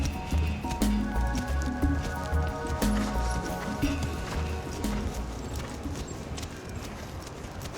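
Horse hooves during morning exercise behind the scenes at a Longines Masters show-jumping event in Hong Kong, a steady clip-clop of footfalls on soft ground mixed with constant outdoor noise, fairly close and continuous.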